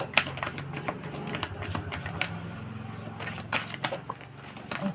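Tarot cards being shuffled and drawn, with close, quiet, quick riffling and tapping in short bursts against a low background murmur.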